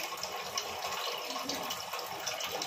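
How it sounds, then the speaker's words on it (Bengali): Water pours steadily into a coriander-leaf fish mixture in a home kitchen, a continuous soft splashing stream throughout. "এই যে জল দিলাম"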